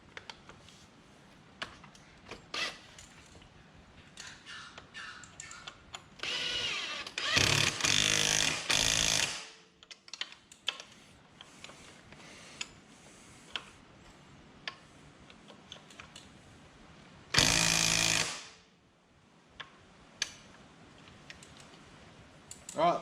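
Bolts are tightened on a Polaris Sportsman 300 quad bike during a drive belt replacement, with scattered sharp ratchet-like ticks and clicks and two longer, louder bursts of tool noise close by.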